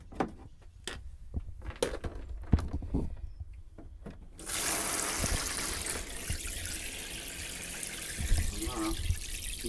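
Hot water from the shower in a 1996 Autotrail camper motorhome starts running partway through, a steady close hiss of spray that follows a few sharp knocks and clatters.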